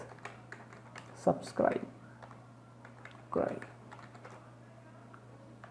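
Keys tapped on a computer keyboard while entering text for relay control code, with light, faint clicks scattered between short bursts of someone talking nearby.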